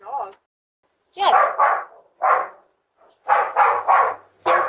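Dogs bark in quick, sharp bursts at a doorbell camera: a short bark, then a cluster of several, then another rapid run of barks, loud and close.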